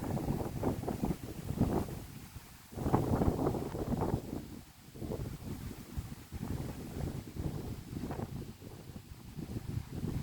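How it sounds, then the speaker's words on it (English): Steady wind roars and buffets the microphone in uneven gusts, a continuous low rumble with no voices. "It's windy suddenly."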